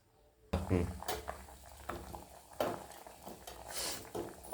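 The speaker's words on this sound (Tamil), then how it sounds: "குழம்பு கொதிச்சிட்ருக்கு." Radish sambar bubbles in a pot, soft popping and patter close by, with occasional clinks of utensils against the pan.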